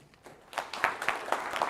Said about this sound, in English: So big round of applause for their team, too.